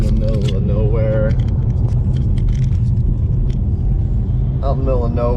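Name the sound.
car driving on a road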